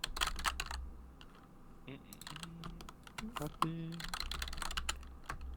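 Rapid bursts of typing on a computer keyboard clatter close to the microphone, with a pause in the middle where a person speaks briefly before the keys resume.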